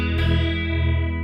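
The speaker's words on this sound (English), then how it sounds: "now everything's being modulated" A sustained guitar tone run through an OBNE Parting pedal, swirling and wavering with the modulation effect, loud and continuous.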